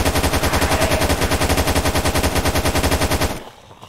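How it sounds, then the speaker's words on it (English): AK rifle fire in a Minecraft zombie shooter game, heard as a loud, rapid, continuous automatic burst of evenly spaced shots lasting about three seconds before cutting off abruptly. "I need to use my AK."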